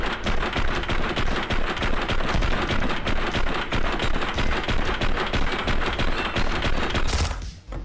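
Rapid, continuous automatic weapon fire from a gun in the physics-based VR shooter Caedes VR, dense and loud bursts running almost nonstop, breaking off sharply near the end.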